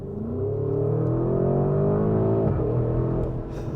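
A Porsche Cayenne Turbo GT accelerates hard in Sport Plus mode, the engine note climbing steadily in pitch, easing briefly around a gear change, then pulling again, loud and close with no talk.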